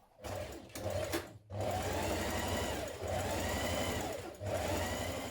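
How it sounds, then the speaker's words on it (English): A sewing machine runs a line of stay stitching around a dress neckline, 1.3 cm from the raw edge, in steady close bursts with a few brief pauses between runs. "we're going to do a line of stay stitching around the neckline"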